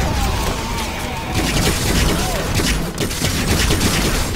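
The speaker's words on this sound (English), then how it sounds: "Who's firing at me from behind? Stop shooting me!" Friendly soldiers firing guns in the Red Faction Guerrilla video game, a dense fusillade of gunfire rattling continuously throughout with booms under a busy battle din.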